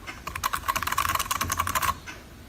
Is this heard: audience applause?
no